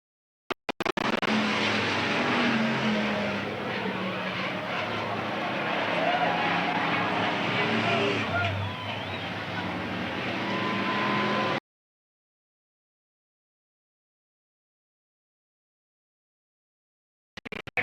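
Race cars circle Eugene Speedway in a 1992 race, their engines blending into a continuous roaring drone at a distance under a track announcer's voice, before the sound cuts off abruptly.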